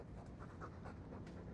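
A dog panting in Dragon Age II, quick steady breathy huffs repeating in a continuous rhythm, faint and close, with no talking.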